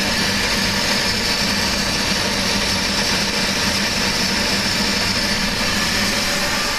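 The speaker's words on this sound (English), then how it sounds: "You can now hear the gun turning over, and you should get a successful ignition." A Kroll waste oil heater's burner gun, fitted with an SF6 energy save controller, runs with a loud, steady, close mechanical roar that holds evenly throughout with no breaks.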